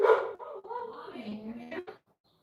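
Dog barking from outside, behind a glass door leading to a yard, heard as a short run of whimpering, yipping barks lasting about two seconds, fairly close and alone before silence.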